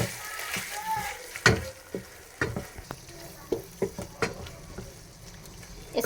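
A utensil stirs a cream and mayonnaise filling in a pan for chicken malai boti samosas, making soft irregular scrapes and taps against the pan over a gentle sizzle, close and fairly quiet.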